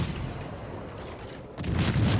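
Warship guns fire in the World of Warships naval battle game: a low, steady rumble of battle ambience gives way to a sudden loud, broadband boom near the end that keeps roaring until the clip stops, with no voices.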